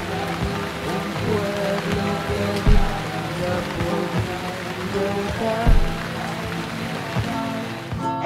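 Rain beginning to fall in a rural Andean village, a dense, steady patter of drops on surfaces with a few louder thuds, close and continuous throughout.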